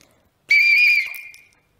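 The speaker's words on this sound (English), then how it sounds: "So I'm going to blow the whistle and then we decide together if the whistle makes a loud sound." A loud whistle is blown once in a single sustained shrill blast lasting about a second, which then tapers off, with silence before it.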